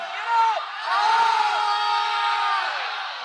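An arena crowd at the Southwest Cup gymnastics competition cheers loudly and continuously, with sustained shouts and whoops rising over the roar.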